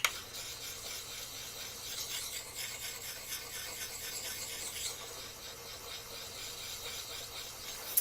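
A Gransfors Bruk Scandinavian forest axe edge scraping steadily across a medium whetstone, a continuous close rasping rub with a slight rhythmic back-and-forth texture and no talk.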